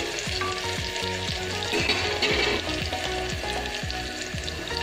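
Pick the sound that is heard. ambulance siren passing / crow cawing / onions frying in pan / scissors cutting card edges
onions frying in pan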